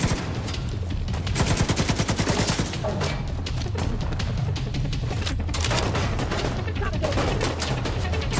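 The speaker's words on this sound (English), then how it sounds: "Come on, machine gun. Machine gun." Rapid automatic machine gun fire in The Division 2, dense bursts running nearly nonstop at close range and loud throughout, with other battle noise layered in.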